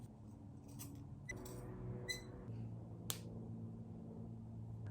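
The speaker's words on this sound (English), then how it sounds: "you're gonna cut down this side and cut down that side into a scallop shape." Scissors snip through fabric into a scallop shape, giving a few quiet, sharp cuts spaced apart in a calm room.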